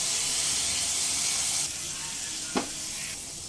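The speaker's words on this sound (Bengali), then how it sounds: "মিডিয়াম ফ্লেমে প্রায় সাত থেকে আট মিনিট মশলাটাকে খুব সুন্দরভাবে কষিয়ে নেব" Spice paste fries over a medium flame for pabda fish curry, a loud continuous sizzle with one brief stirring scrape partway through, up close with nobody speaking.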